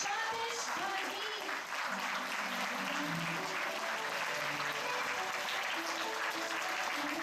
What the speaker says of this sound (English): Shall all stand please and give it a big round of applause